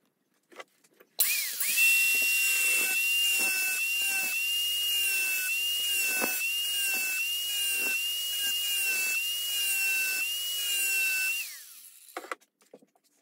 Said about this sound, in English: angle grinder here with a cutoff wheel